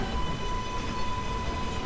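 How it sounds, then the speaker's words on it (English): An M shuttle subway train in the Roblox game Ro Scale rumbles steadily on the rails with a constant whine, moderately loud and continuous. "This is a Myrtle Avenue bound M shuttle train."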